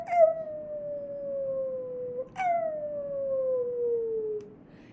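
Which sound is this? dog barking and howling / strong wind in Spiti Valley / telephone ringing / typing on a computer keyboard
dog barking and howling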